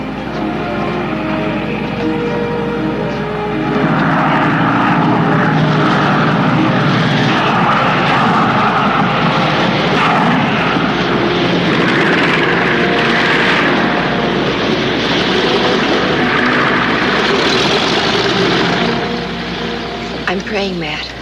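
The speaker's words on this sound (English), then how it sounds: "Alma, the plane." A propeller airplane drones steadily and loudly throughout, its engine roar filling the scene in a 1948 thriller film, with voices talking over it.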